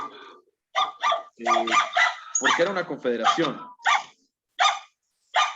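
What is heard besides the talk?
dog barking over an open microphone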